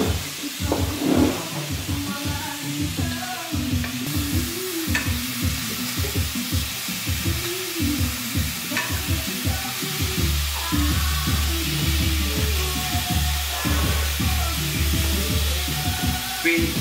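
Bavette steak sears in a non-cast-iron pan, a steady close sizzle and frying hiss that runs throughout. Intermittent stirring or scraping knocks sound over it.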